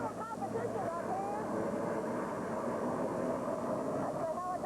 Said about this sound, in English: That's the helicopter headed towards the